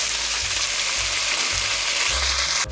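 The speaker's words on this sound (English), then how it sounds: "We're also going to add in our ground beef" Ground beef sizzles loudly in a pot of soup vegetables with carrots and celery, a steady bright frying hiss with low stirring thumps, ending in a sharp burst near the close; no talking.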